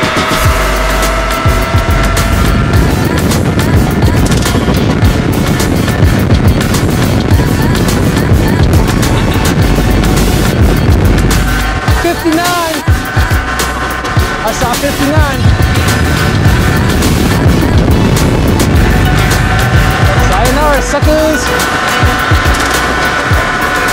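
Kaabo Wolf King GT Pro electric scooter ridden flat out at top speed, a loud continuous rush of wind and road roar with rising electric whine, buffeting and rattles throughout.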